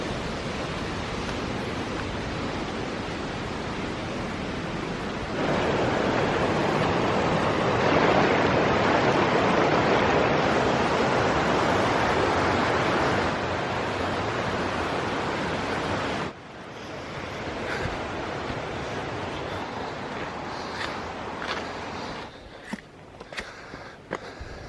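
Waterfall in Magelang, Indonesia, with rushing stream water, a steady broadband roar that swells louder midway and then drops to a softer flow with a few light knocks near the end.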